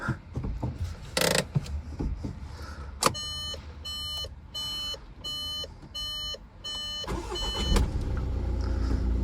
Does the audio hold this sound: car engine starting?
yes